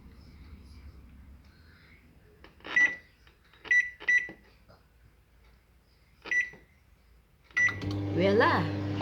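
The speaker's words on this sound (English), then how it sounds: "Let's put it to microwave. And set your microwave to 20 minutes." A microwave oven holding a Tupperware rice maker sounds several keypad beeps, then starts its steady humming run at close range.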